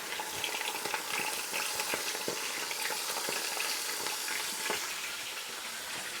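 Stewing pork sears in a preheated Ninja Foodi with a dense, even crackling sizzle close by, scattered with small pops, and no one talking.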